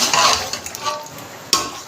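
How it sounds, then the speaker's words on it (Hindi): Yogurt being whisked into haleem in a cooking pot, a soft continuous stirring and scraping with a few light clinks of the utensil against the metal, ending in one sharper knock. "फेंट के डालना है।"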